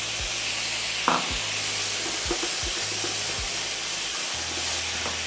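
Vegetables hiss and crackle in a hot wok for chicken fried rice, with a loud continuous sizzle and repeated low knocks and scrapes of tossing and stirring close by.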